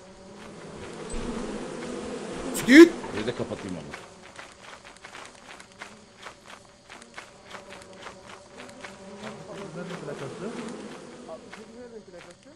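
A beehive in the video game Lethal Company gives off a continuous insect buzz under excited player chatter, with footsteps and a sharp thump partway through.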